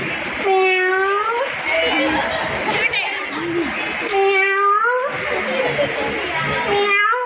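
A voice mimics a cat meowing in drawn-out, wavering meows, loud and close, with two main cries separated by rougher vocal noise.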